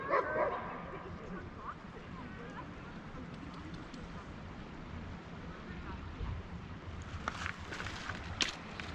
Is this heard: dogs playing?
yes